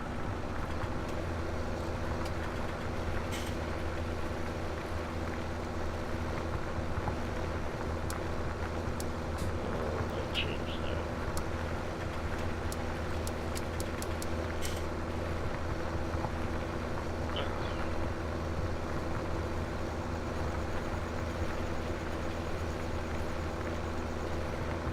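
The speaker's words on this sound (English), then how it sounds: "tractor's kind of loud" Tractor in Farming Simulator 17 plowing a field, its engine a steady, loud low drone with a constant rumble throughout and a few faint clicks on top.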